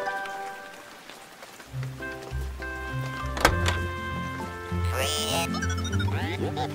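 Rain falling in a children's cartoon about street vehicles and robots, with rain and patter on surfaces under a musical score, alongside a thunk and mechanical cartoon sound effects.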